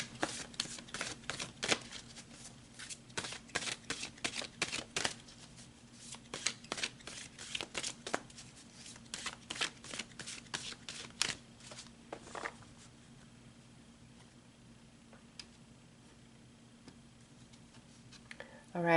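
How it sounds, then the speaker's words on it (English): Tarot cards are shuffled in a rapid series of sharp riffling snaps and flicks for about twelve seconds, then the handling thins to sparse, quieter taps as cards are pulled, close-up over a faint steady hum. "So let's pull some more cards."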